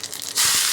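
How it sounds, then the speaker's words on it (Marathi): Cumin seeds dropped into hot oil for an egg masala crackle and sputter in a sudden loud burst that holds steady, after a quieter stretch of low background noise. "तेल तापून गेलं, जिरं टाकते"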